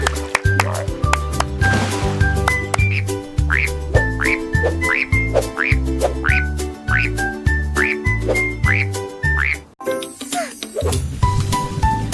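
Cartoonish frog croaks repeat in a bouncy rhythm within a loud children's song, with whistly melodic calls over a steady pulsing beat.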